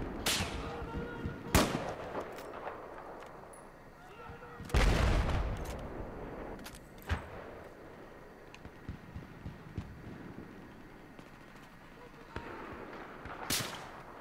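Battlefield 4 multiplayer combat with scattered gunshots and heavy booming blasts at irregular intervals, ranging from sharp close cracks to duller distant thuds, set over a steady rumbling background.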